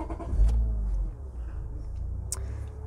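A Honda Elysion minivan's V6 engine catches and settles into a steady, deep idle rumble, heard close and alone for a few seconds.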